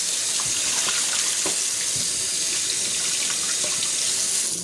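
Tap water pours steadily into a kitchen sink as it is rinsed clean after washing pork neckbones, a loud continuous splashing hiss with faint clinks underneath.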